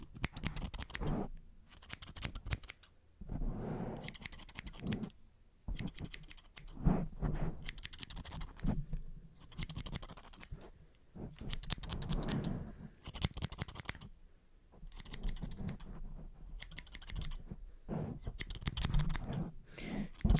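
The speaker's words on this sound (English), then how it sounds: "to smoothly take your hair and cut it into little strands" Barber scissors snip steadily through hair in quick clustered bursts of crisp metallic clicks with brief pauses between, close and intimate in a quiet barbershop setting, with no talking.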